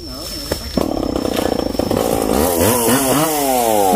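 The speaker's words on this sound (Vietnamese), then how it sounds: "bác Bảy nhờ bác của Toàn lên cưa mấy cây này đó cả nhà" A chainsaw cuts down a king palm tree, its engine revving in rising and falling waves, loud and close, with speech over the saw.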